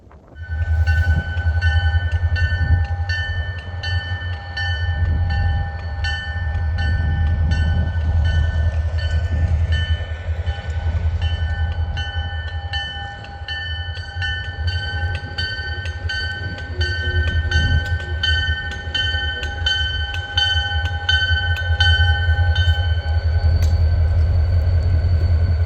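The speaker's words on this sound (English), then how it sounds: "After that, the SD40 pushed the coaches back to the shed for the day" An SD40 diesel locomotive pushes vintage Prairie Dog Central coaches back to the shed: a loud, continuous low engine rumble with steady tonal whine and faint rail clatter, close by and unbroken throughout.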